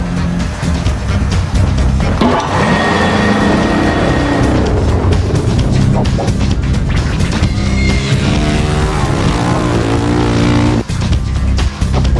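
A vintage racing motorcycle engine turned over with a starter, catching and running loudly up close, its revs rising and falling in rough bursts that fill the whole stretch, with no talking.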